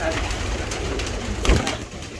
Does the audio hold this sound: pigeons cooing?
yes